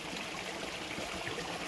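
Water trickles steadily from tree roots on a remote mountainside, a faint, continuous babble with no other sounds.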